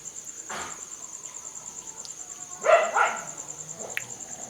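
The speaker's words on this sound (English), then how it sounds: "Dog fight." Dogs in a fight bark out at night, a couple of sharp distant yelps and a louder burst of barking, with crickets trilling steadily in the background.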